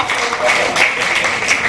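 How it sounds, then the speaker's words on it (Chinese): An audience at a live talk gives a steady, dense round of applause that runs through the whole moment, with a speaker's voice audible over the clapping. "我们大家再给她一次掌声好不好？"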